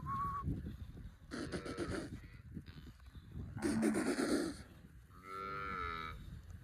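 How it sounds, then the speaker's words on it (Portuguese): Cows on a cattle farm with newborn calves moo several times, the drawn-out lowing calls coming one after another at moderate distance amid quiet outdoor ambience, with no one speaking. "Aí as vacas voltam e eles assustam com ela."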